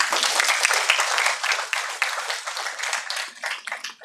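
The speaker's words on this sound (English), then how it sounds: "let us begin this inspiring journey with a huge round of applause" An audience at the opening of an EC hackathon applauds, a dense crackle of many hands clapping. It holds steady, then thins and fades toward the end.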